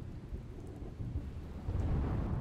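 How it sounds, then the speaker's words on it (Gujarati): Heavy rain pours down in strong wind during Cyclone Biparjoy in coastal Gujarat villages, a dense steady roar with low rumbling gusts that swell toward the end, with no voices. "ભારે પવન સાથે ધોધમાર વરસાદ"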